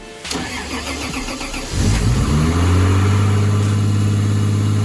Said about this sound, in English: So I'm gonna start up the car, check for leaks, and then take it for a spin